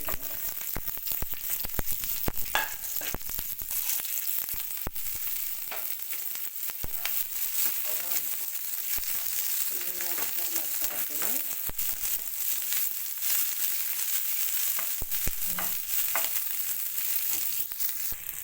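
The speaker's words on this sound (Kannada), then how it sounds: "ಎಣ್ಣೆ ಹಾಕ್ಕೊಂಡಿದ್ದೀನಿ ನೋಡಿ ಸ್ವಲ್ಪ ಬೆಚ್ಚಗಾಗಿದೆ ಇವಾಗ ಉಳ್ಳಾಗಡ್ಡಿಯನ್ನು ಹಾಕೋತಾ ಇದ್ದೀನಿ" Chopped onions frying in warmed oil in a pan for a North Karnataka brinjal dish, a continuous dense crackling sizzle with occasional stirring scrapes and clicks, close and steady throughout.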